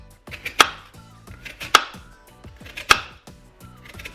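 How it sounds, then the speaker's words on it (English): A kitchen knife chops food on a cutting board, loud close thuds spaced irregularly with about four sharp strikes and lighter taps between, and nobody talking. "So we're just gonna chop this."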